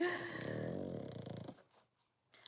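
A dog snores close by in long, raspy, rumbling breaths that last for a couple of seconds and then trail off into near silence with a few faint snuffles.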